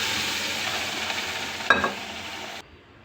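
Dal being stirred into sambar with drumstick in a pan, a steady soft sizzling bubble with a brief scrape of the spoon before the sound cuts away.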